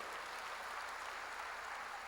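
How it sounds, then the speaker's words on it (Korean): Congregation applause during a church worship service, a brief, even burst of many hands clapping at a distance, quiet and steady. "박수로 하나 돌리세요."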